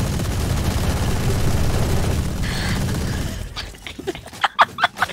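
Gunfire in the tactical shooter game Valorant: a dense roar of shots and blasts fills the first seconds, then several sharp separate reports crack out near the end.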